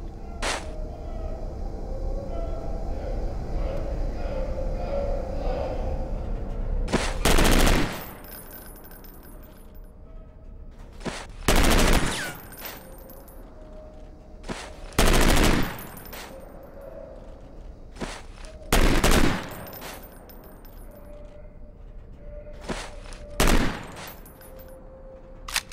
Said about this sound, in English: Let's get to the submachine guns now. Pick up that MP5.